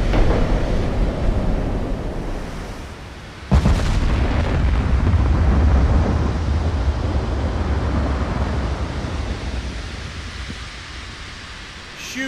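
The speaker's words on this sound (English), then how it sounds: "18-inch guns don't mess around, man." Massive 18-inch naval guns firing in the game Ultimate Admiral Dreadnoughts: a sharp, loud blast followed by a long, heavy rumbling roar that slowly fades, with no voices.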